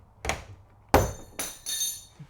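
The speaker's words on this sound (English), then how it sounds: "Okay, I've once again sheared off those pins." Metal lock pins shearing off as a pipe wrench forces the lock open: a sharp crack followed by several ringing metallic snaps and clinks, close and fairly loud, spread over about two seconds.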